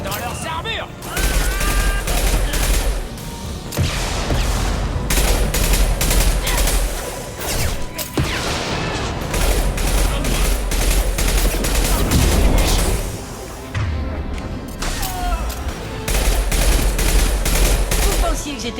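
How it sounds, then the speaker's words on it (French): Sustained bursts of weapon fire in the video game Mass Effect 2, loud and dense with brief gaps, with occasional voices beneath. "Tire dans leurs armures."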